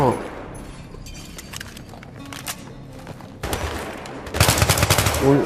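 Battlefield 3 gunfire crackles through the second half, with dense bursts of shots ringing loud and close after a quieter stretch of faint game noise.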